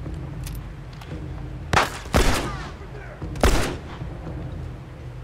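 Four sharp, loud gunshots from The Last of Us ring out in two spaced pairs over a low steady game background.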